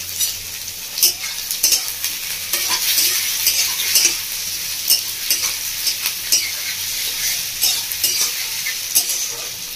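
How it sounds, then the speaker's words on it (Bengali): Bell peppers and onion fry in a pan for a Bengali mutton curry, giving a steady close sizzle broken by repeated scraping and clinking strokes of a spoon or spatula as they are stirred, with no talking. "শিমলা মির্চ পেঁয়াজটা ভালো করে ভেজে নেব"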